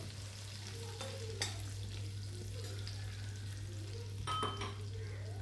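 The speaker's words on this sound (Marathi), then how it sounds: "छान असं कलसून घ्यायचं आहे लसणाचा कच्चा स्मेल जाईपर्यंत।" Garlic cloves and chillies fry in a pan with a steady low sizzle, broken by a few sharp clinks and scrapes of a spoon stirring against the metal, alongside a constant low hum.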